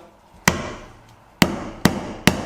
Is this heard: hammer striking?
yes